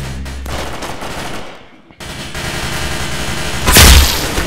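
Rapid automatic gunfire in the Roblox shooter Arsenal, a loud continuous burst of shots that dips briefly then resumes, ending in a heavier, louder volley near the close.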